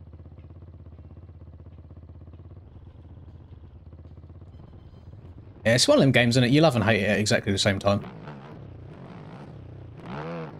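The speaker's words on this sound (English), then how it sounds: "the engine sound and me talking is loud enough to drown it out" Supercross motorcycle engine in a racing video game, a droning buzz that surges into loud revving for a couple of seconds, with someone talking over it throughout.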